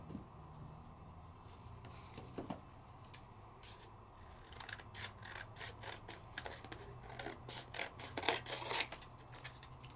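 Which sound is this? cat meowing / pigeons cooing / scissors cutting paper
scissors cutting paper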